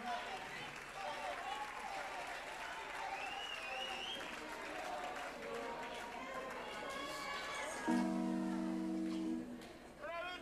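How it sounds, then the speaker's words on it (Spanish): Audience applause at an album launch concert in 2011, a steady wash of clapping and crowd noise running under someone speaking over it throughout. "Un aplauso para el Daniel también"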